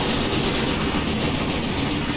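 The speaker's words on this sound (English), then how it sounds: "Just running a locomotive up and down the track." Locomotive running along the track in the Railway Empire train game, a steady, continuous rumble with rail noise at constant loudness throughout, no voices.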